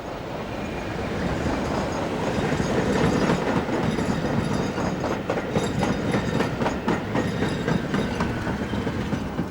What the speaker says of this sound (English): the preserved mainline Demu heads for Bath